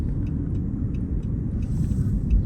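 A car engine rumbles low and steady from inside the cabin during a ride, with faint light ticking above the continuous drone.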